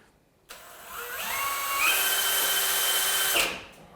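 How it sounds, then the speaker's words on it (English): A power drill whirs steadily for about three seconds, its pitch climbing as it bites in, then stops abruptly; close and loud, no talking. "I gotta drill this hole"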